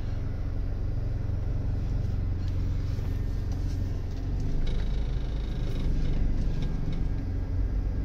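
A 2007 Toyota Corolla with a transmission shifting problem drives on a road test, its engine and road noise forming a loud, steady rumble throughout with a slight swell partway through.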